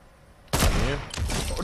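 A sniper rifle headshot in Fortnite: one sharp, loud crack after a brief quiet lead-in, with a ringing tail and a second burst of noise following about half a second later.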